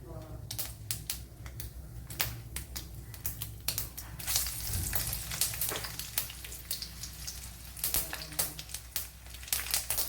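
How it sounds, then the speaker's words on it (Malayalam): Dried red chillies fry in hot coconut oil with mustard seeds for a Kerala small-onion chicken dish, producing a continuous crackling sizzle with sharp pops throughout and a faint voice underneath. "ഇനി അതിലേക്ക് കുറച്ച് വറ്റൽമുളക് ഇട്ട് കൊടുക്കാം."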